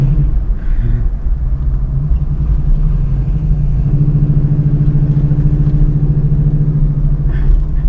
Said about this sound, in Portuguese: Olha ele acelerando